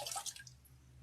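Warm water from a bucket splashes and drips during washing while scrubbing the skin, a short close burst of splashing that thins to faint drips and a low hum.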